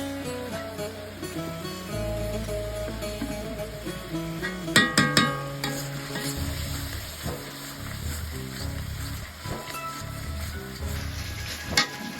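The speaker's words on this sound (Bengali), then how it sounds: "মশলাটা ভালো করে কষিয়ে নিচ্ছি" Spices sizzling steadily in hot oil with fried onion, salt and a little water while cooking a snakehead fish curry, a continuous close crackle with occasional stirring clatter and no talk.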